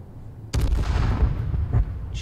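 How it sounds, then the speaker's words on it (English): A heavy bomb blast in H1Z1 battle royale, a single loud booming explosion that rumbles and decays over a couple of seconds, close and alone. "They're really trying to bomb me, bro."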